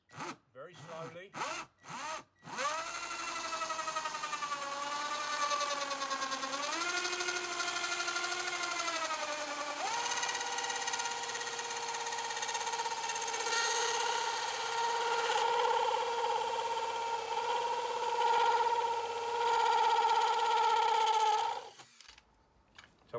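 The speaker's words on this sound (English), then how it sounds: "So once you're through the vinyl, pull it out your drill." A drill bores slowly at a slight angle through vinyl house siding, a steady whining tone that climbs in pitch and holds for about twenty seconds after a few short starts, then cuts off.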